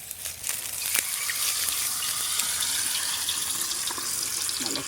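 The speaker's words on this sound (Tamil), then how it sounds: "நம்ம ஒவ்வொரு பீஸாக எடுத்து போட்டு பொறிக்க வேண்டியதான்" Marinated chicken pieces for Chicken 65 deep frying in hot oil, cooked outdoors in a garden; a steady, loud, hissing sizzle runs throughout with no voices.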